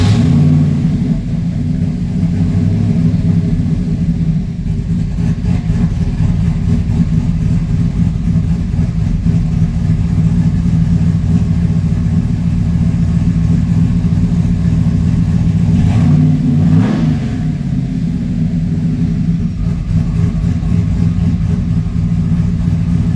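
Car engine fitted with Holley Pro Dash gauges running steadily with a deep low rumble, loud and close throughout, with a slight rev swell near the end and no talking.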